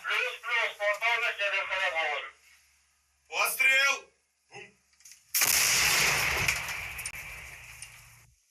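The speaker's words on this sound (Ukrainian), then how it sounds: "самохідної артилерійської установки Паладін зі 155 міліметровою гарматою" Voices talk first, then an M109 Paladin self-propelled howitzer with a 155 mm gun fires once with a single loud, booming blast that rolls into a long, rumbling decay.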